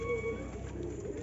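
A teddy pigeon pair bought for 5,000 rupees coos faintly and low in a short stretch, the soft burbling partly buried in a steady background hum, with no talk heard.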